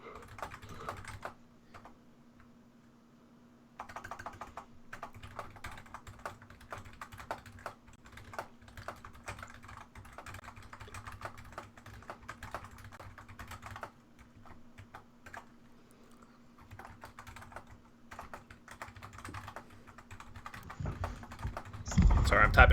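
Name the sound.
typing on computer keyboard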